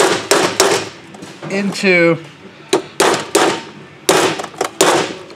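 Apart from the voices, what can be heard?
hammering a Torx bit into a stripped Allen bolt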